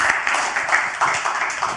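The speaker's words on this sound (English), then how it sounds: "Give Jonathan a round of applause, please." A group applauds as a man named Jonathan is called up to join a speaker, a brief, fairly even burst of clapping from a modest audience, moderately close and without talk over it.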